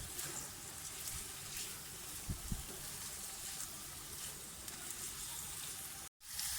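Sliced vegetables stir-frying with chicken in a pan for a chicken fajita rice, giving a steady close sizzle with a few scraping stirs, then a brief drop-out near the end.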